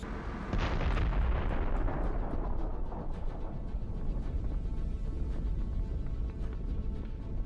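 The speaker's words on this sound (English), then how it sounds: "It's a precision strike, after which we see an incredible explosion." A large explosion from a precision drone strike on military vehicles booms out, then leaves a long rolling rumble with faint pops trailing after, with no talk.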